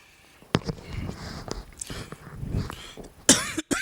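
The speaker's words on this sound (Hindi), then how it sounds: "मुझे खांसी आ रही है तो ब्रीदिंग साउंड आएगा।" A man with bronchitis coughs several times, sharp bursts scattered across a few seconds, with a loud, harsh cough near the end; breathy sounds between them.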